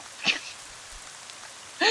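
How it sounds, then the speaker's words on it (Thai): Soft, steady rain hiss falls in a video game. It is fairly faint, with a couple of brief, sharper sounds near the start and at the end. "ฝนตกจริงด้วย"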